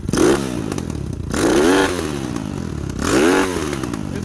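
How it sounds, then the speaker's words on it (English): A Lifan KP Mini 300 motorcycle engine with an upgraded carburetor revs up sharply three times in quick succession, each blip climbing and falling back to a busy, clattering idle, close and loud. "I can actually rev it the fuck out"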